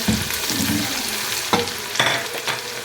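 Ginger garlic paste sizzles and fries in a hot pan while being stirred, with steady crackling and occasional scraping strokes at close range and no talking, as the first step of a dhaba-style Pakistani daal mash.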